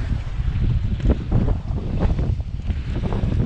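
Wind gusts steadily near open water while standing in the shelter of a wall, a constant low rumble of buffeting air with surging peaks across the whole stretch.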